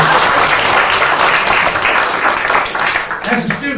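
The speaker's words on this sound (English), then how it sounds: "Oh, you can applaud for Fred." Loud, close applause fills a room at a library room dedication, steady clapping for several seconds with voices mingling in before it thins near the end.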